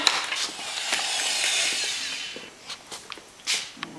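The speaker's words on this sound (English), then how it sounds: "Are you going to screw some screws in there?" A power drill drives screws into layered wood on a boat transom under repair, a steady whirring run for the first couple of seconds followed by shorter bursts and pauses, close and fairly loud.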